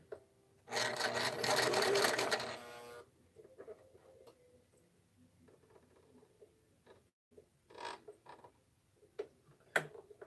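A sewing machine runs a zigzag stitch in one loud, steady burst of about two seconds, then stops. Soft handling clicks and rustles follow at close range.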